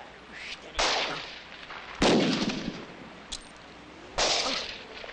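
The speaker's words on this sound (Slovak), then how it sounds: "Kalman, ak neprestaneš strieľať, zabijem ťa." Gunshots ring out in a 1968 Slovak war film scene: three loud, sharp blasts spaced about a second or more apart, each with a ringing decay, plus a smaller crack between them.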